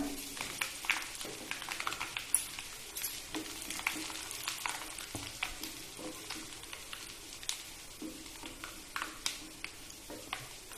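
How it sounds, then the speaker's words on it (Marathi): Crushed mustard seeds sizzle and pop in hot oil, a faint continuous crackle with frequent sharp little ticks and spits throughout. "आपण कुटून घेतलेली मोहरी तेलामध्ये टाकूया"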